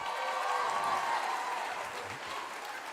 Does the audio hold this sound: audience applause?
yes